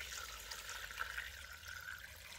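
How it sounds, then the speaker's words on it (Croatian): Brine seeps into packed cabbage as air bubbles escape to the surface, a faint, steady fizzing trickle that hisses softly throughout. "Evo ovdje vidite kako mjehurići zraka izlaze van i voda ulazi u kupus."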